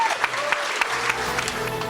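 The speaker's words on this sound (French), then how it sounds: "Bonne main d'applaudissements pour M." Audience at a builders' awards gala applauds a prize winner, a steady wash of clapping with a few sharper individual claps standing out near the front.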